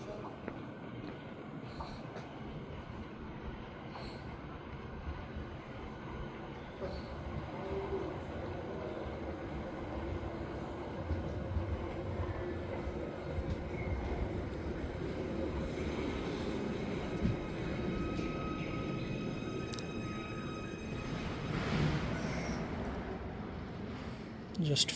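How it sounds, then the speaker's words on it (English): A four-carriage train from Liverpool pulls into Waterloo station on Merseyside, bound for Southport: a long, steady rumble of wheels on rail that swells as it nears, with a brief squeal of brakes toward the end. "there's one coming from Liverpool to Southport"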